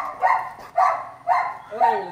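A Dogo Argentino in obedience training gives four evenly spaced, close, loud barks about half a second apart, the last one drawn out and whining.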